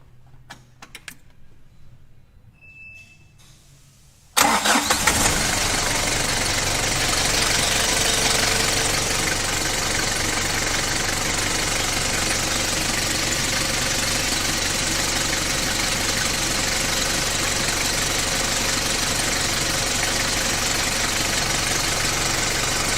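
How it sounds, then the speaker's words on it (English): A car engine, brought up during a battery analyser test, fires abruptly after a few quiet clicks and then settles into a loud, steady idle that holds for the rest of the stretch. "now it's telling us that we should start the engine"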